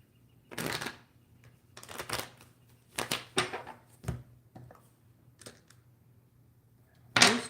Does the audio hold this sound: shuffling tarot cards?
yes